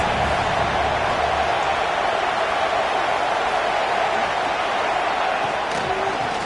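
A football stadium crowd roars in a dense, unbroken wall of noise as the defense is backed up against its goal line, loud and constant for several seconds.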